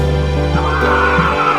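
A horse at a Khandoba temple yatra fair in Devgad, Sangamner, gives a close, loud, drawn-out neigh lasting over a second.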